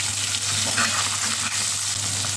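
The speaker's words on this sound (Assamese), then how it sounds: "এতিয়া মই ময়দা লেটিয়াই ভাজি দিছোঁ" Flour-coated chicken pakora frying in hot oil, a steady loud sizzle with faint crackles running through the whole short stretch, close up and without voices.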